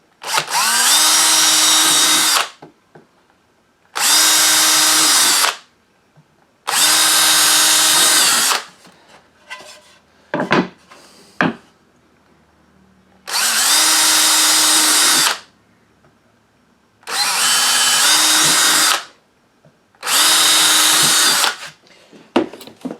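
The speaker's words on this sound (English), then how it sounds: "So let's go ahead and drill these out first of all." A power drill whirs in six short, loud bursts of about two seconds each, drilling holes in a wooden soap mold, with quiet gaps of clicks and handling noise between them.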